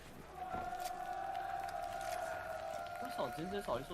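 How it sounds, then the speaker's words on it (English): A crowd at a Fortnite esports world tournament roars and cheers in a sustained wash of noise, with a long tone running through it and a few voices breaking in near the end. "the crowd really starting to turn up right now."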